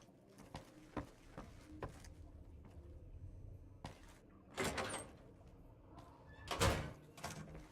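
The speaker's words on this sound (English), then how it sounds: "Door to Atomic Wrangler." A door opens in Fallout: New Vegas at the Atomic Wrangler, with a couple of loud swelling bursts and some scattered clunks against quiet game ambience.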